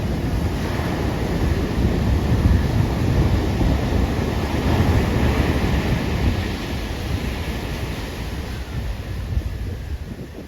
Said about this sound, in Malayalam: ഇതാണ് തിരുവനന്തപുരം കടൽ അല്ലേ കടൽ തിരുവനന്തപുരം കടലാണ്